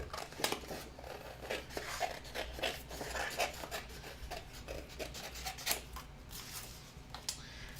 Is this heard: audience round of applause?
no